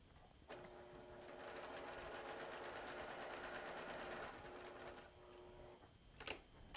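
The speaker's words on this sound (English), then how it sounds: "we're going to come over here and sew that edge down" A sewing machine runs in one steady fast burst of rapid needle ticks while stitching down the edge of a rainbow log cabin quilt block, then stops, followed by a few soft handling clicks.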